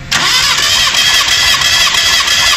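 A Proton Satria's engine cranks and catches, loud and close, then settles into a steady idle. The engine has an uneven, hiccuping run from unequal oil pressure.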